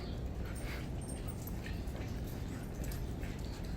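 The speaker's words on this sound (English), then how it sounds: "He's a high-strung dog." A high-strung, stressed small dog whimpers and yips faintly over steady background noise, with brief high-pitched whines scattered through the clip and no talk.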